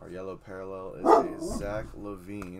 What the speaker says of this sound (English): Sorry for my dog. Somebody must have made her mad.